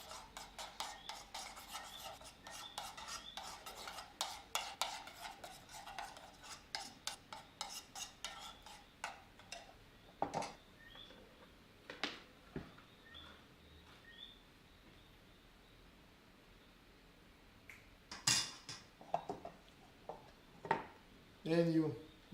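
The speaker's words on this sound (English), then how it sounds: "keep stirring it properly, so that the powder of the turmeric will dissolve with the honey and the mustard" Spoon stirring turmeric powder into honey and mustard in a bowl, with rapid scraping taps early on, then sparser clinks and scrapes.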